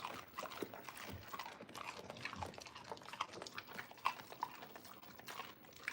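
Dogs crunch and click nearby in a kitchen during a radish-pickling session, a quiet, steady run of dense clicks and chewing noises with no voices.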